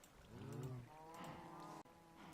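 Cattle in the video game Minecraft mooing, several overlapping low, drawn-out calls one after another, loud and close with no talk, cut by a brief dropout near the end.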